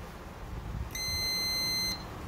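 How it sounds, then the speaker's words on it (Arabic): A low temperature alarm buzzer on an electrical control panel sounds a steady, high-pitched tone for about one second, moderately loud against faint background hum, then stops. "هذا منبه من انخفاض الحرارة"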